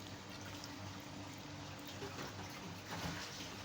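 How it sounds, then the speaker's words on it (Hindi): Water is poured steadily into dahi phulki batter as it is mixed, a continuous soft trickling and pouring sound close by with no talking. "पानी डालते जाएंगे और मिक्स करते जाएंगे।"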